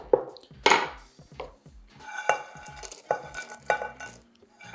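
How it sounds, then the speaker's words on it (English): Toasted almonds crushed in a pestle and mortar, giving a series of close, irregular grinding and knocking crunches with short pauses between strokes. "So we're gonna crush them in a pestle and mortar."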